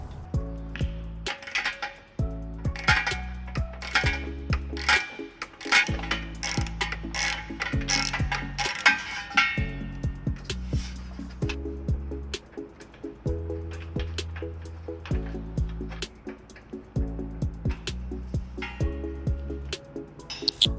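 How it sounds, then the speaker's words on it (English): Ratchet socket wrench with 15mm and 18mm sockets backing a bolt out of the frame of a 2008 Dodge Grand Caravan during hitch installation, close and steady: repeated bursts of rapid clicking and grinding mechanical strokes with brief pauses, no talk. "We're going to be using a 15mm socket and an 18mm socket."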